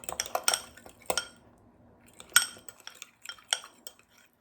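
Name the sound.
stirring muffin batter with flour and baking powder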